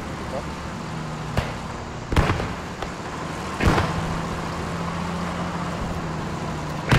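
Grenade blasts in a World War II video game set around Carentan, two sharp booming bursts over a steady background rumble, with players talking loosely in between.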